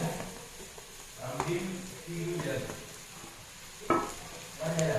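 Jackfruit pieces and curry leaves stir-frying in a pan make a soft, steady sizzle broken by several scraping and clattering strokes of a stirring spoon, fairly close and otherwise quiet.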